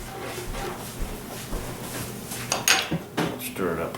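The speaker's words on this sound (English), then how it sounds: "We'll mix this up real good" Instant coffee stirred with a spoon in a cup, light clinks and scrapes repeating unevenly, with a few sharper taps near the end and low voices faintly in the background.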